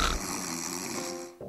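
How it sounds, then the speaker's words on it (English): An adult snores loudly with a single long, rough, snorting drawn breath close by, ending in a brief catch, with no talking. "I cannot sleep because she's just snoring so loud like an adult"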